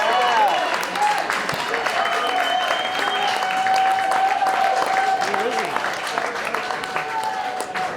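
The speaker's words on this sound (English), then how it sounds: "please hold your applause to the end of this list" Audience at a bluegrass night in a bar venue clapping and cheering, sustained applause mixed with whoops and crowd voices, with someone talking over it.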